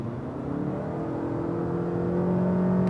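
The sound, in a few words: naturally aspirated petrol engine accelerating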